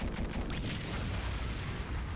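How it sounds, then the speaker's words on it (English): Rapid chains of cartoon bomb explosions from the Super Bomberman R Online video game, dense booming blasts rumbling continuously and fairly loud with no gaps, no voices over them. "when you have explosions going off like that"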